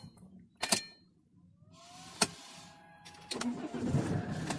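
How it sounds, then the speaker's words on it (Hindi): A car engine is switched off and restarted while checking a second-hand car for battery trouble: transient clicks, then a starter crank and the engine catching into a steady idle, close by, with no speech. "देखिए मैं ऑन ऑफ कर देता हूँ, फिर से स्टार्ट करके दिखाता हूँ आपको।"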